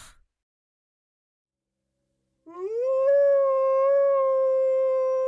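After near silence, a wolf gives one clear, sustained howl that rises and holds steady for nearly three seconds, heard alone and close.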